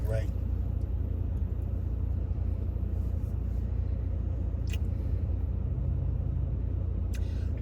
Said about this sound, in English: Riding in the car.